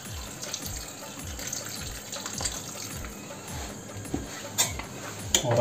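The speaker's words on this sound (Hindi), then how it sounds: "और अब डाल दिया हमें थोड़ा सा पानी" Water poured into a pan of spiced masala cooking on the stove, a steady sizzling gush running continuously with a few brief clinks near the end, close and moderately loud.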